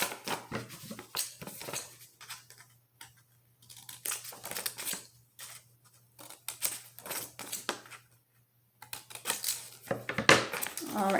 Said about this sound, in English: Cutting just a little snip so that it'll be easier to fold the corners